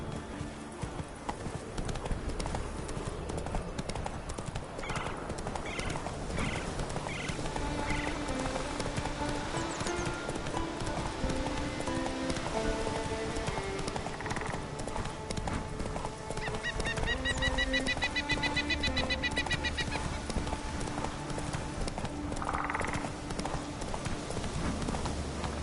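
Roach, a horse in The Witcher 3: Wild Hunt, gallops with a continuous drumming of hooves under a dense bed of game music and ambience, steady and moderately loud throughout.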